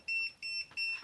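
A ZOKOUN laser level gives three sharp electronic beeps in quick succession, the first two tones broken into short pips, close and clear with no talk over them.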